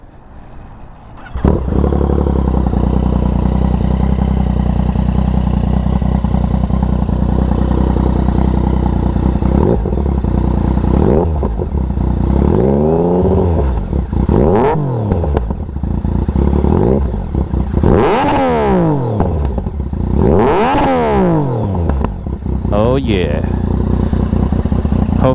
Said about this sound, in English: you wanted to hear the angriest sounding fz09 in New York City. That is a TOCE exhaust.